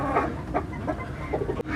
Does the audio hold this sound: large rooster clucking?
yes